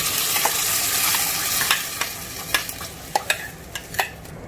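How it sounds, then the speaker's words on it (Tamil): Ground masala paste sautés in hot oil in a pan, a sizzle that settles as a spoon scrapes and stirs in several distinct knocks, close with no talk. "எண்ணெய் சூடாயிடுச்சு, இதுல நம்ம வந்து அரைச்சு வச்ச மசாலாவை சேர்த்துக்கலாம்."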